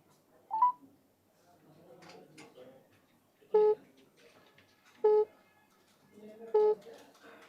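Telephone keypad dialing tones on a call being placed, a short beep followed by three distinct bursts of dial tones spaced about a second and a half apart over quiet background, with no talk.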